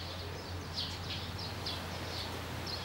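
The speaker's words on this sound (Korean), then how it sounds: "새소리가 지금 짹짹짹짹짹." Outside a restaurant near an oreum on Jeju, with a light breeze, small birds give faint, repeated short chirps at a distance over a low, steady background hum.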